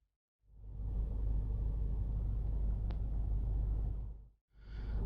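Road traffic leaving a big island near the mountains in Poland, heard as a close, loud low rumble of a passing vehicle that builds, holds for several seconds, drops away briefly, then returns.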